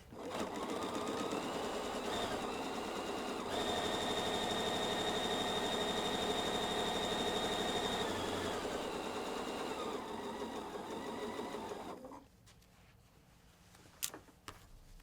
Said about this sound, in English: And let's sew our 1/4 inch seam and check our block.